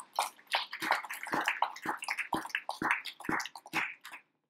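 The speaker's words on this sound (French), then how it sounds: "Applaudissez-moi Jéhovah" A church congregation claps together in a steady rhythm, about two claps per second, during a worship service, the crisp, roomy claps sounding at moderate distance before stopping abruptly.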